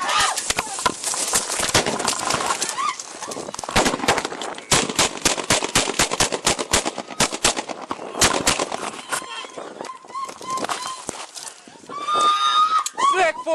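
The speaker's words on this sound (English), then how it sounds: "shots fired! Officer down!" Gunfire captured on a detective's body camera during an attempted murder: a rapid volley of sharp, loud shots in dense bursts, mixed with shouting voices and commotion, followed by people talking urgently near the camera.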